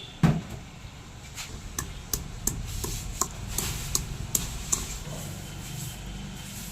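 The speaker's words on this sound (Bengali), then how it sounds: "রসুনটা এবার একটু থেতো করে নেব।" A few garlic cloves are crushed with a series of dull, irregular knocks and thuds. One heavier blow comes first, then lighter regular strikes follow over a faint background hiss, with no talking.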